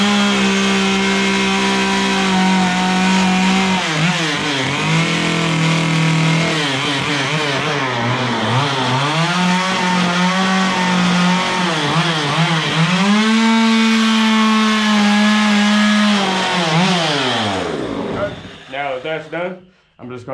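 A chainsaw carves a simple wooden tiki, its engine droning loud and close almost continuously, pitch rising and falling as the cut loads, then cutting out and sputtering near the end.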